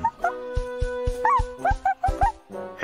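A cartoon pup whimpers and yips in a quick run of high, wavering cries, close and clear.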